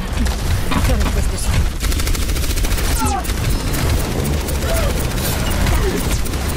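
A sentry turret fires during an Overwatch competitive match, a dense, steady rattle of rapid shots mixed with booms and other game effects, loud and continuous throughout.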